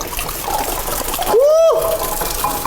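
Everclear liquor being poured into a kitchen sink for jungle juice makes a steady, close splashing gush, with a brief rising vocal whoop sounding over the middle of the pour.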